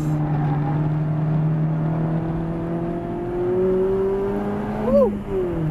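Mazda Miata engine droning at steady revs on a wet race track, a loud close in-car hum with rising pitch and a quick blip near the end as gears change through a chicane.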